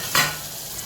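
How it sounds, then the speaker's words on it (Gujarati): Onion and tomato sautéing in a pan for Gujarati mung masala, a steady close sizzle with a brief stirring scrape near the start, no talk. "સાતળવા મૂક્યું છે ડુંગળી ટામેટાની"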